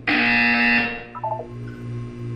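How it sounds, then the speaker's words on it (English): A loud electronic buzzer from the video game Portal 2 sounds once at full strength for under a second, followed by a few quieter stuttering electronic tones and a low ambient hum. "You will hear a buzzer."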